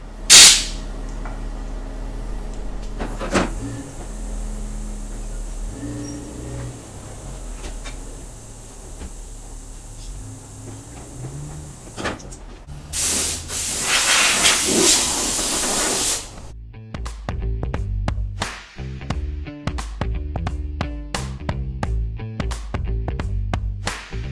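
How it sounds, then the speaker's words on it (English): Compressed air from an air compressor blown through a dusty DeWalt miter saw: scattered clicks and handling noise, then a loud, sustained hissing blast lasting a few seconds, followed by a run of sharp clicks and taps. "let me grab my air compressor, clean all this out before we go any farther."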